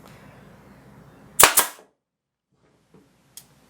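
Nail gun firing a nail into a half-inch board: one sharp, loud pneumatic snap with a quick double crack, then near silence and a faint later click.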